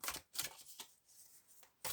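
Tarot cards being shuffled in quick riffling bursts, several short rustling flurries separated by brief pauses, close and fairly quiet.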